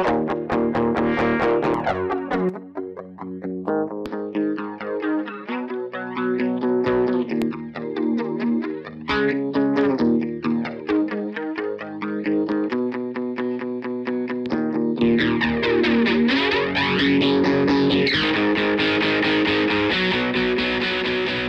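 Electric guitar played through Line6 modeled distortion and flanger effects, sustained chords and notes with sweeping jet-like swirls, loud and continuous with no talking.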